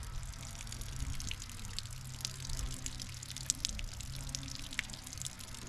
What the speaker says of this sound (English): Right now we should have some antifreeze going through the motor, coming out the back.